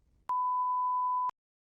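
A single clean electronic tone sounds for about a second in a TOEFL iBT speaking practice test, starting and stopping abruptly and heard alone against silence.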